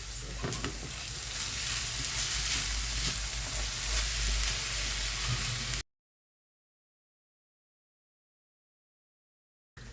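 Freekeh stirred with softened onion in a pot gives a steady, close frying sizzle with light scraping for about six seconds, then silence, and the sizzle returns briefly at the very end.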